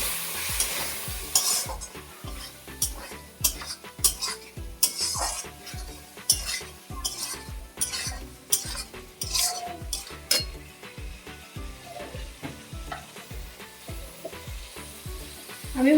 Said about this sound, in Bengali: পরিমাণ জল দিয়ে আমি মশলাটাকে কষিয়ে নিচ্ছি